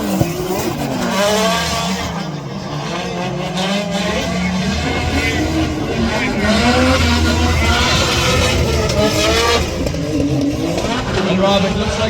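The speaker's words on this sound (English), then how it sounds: "As both drivers leave the line at the Irish Drift race as well." Drift cars, including Nissan Silvias, leave the start line at the Irish Drift Festival at Rosegreen, County Tipperary, with loud revving engines and tyre noise rising over a few seconds while a commentator talks over them.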